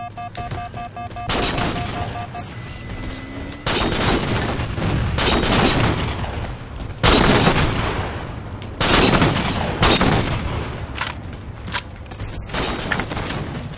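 Sniper rifles fire in Halo 4 during a Team Snipers match on the Abandoned map: loud, sharp shots crack out repeatedly over about fourteen seconds, some in quick clusters, with bursts and tails overlapping.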